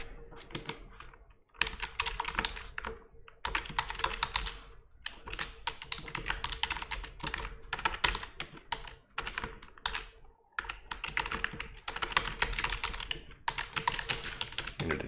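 Typing on a computer keyboard while entering sign-up details, with close, rapid clicking key strokes in bursts separated by short pauses, continuing steadily with no talk.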